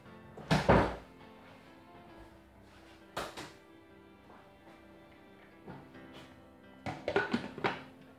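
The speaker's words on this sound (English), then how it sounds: "Close the door." A cupboard or door thunks shut loudly, followed by softer knocks and a final cluster of clattering bumps.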